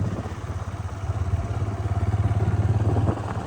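A motorcycle rides along a repaired village road in rural Punjab in daytime, its engine a close, steady low throb with rapid regular pulses and a faint rattle throughout.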